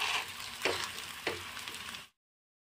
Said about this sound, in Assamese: এতিয়া আলুখিনি অলপ তেলত এনেদৰে মিক্স কৰি দি আছোঁ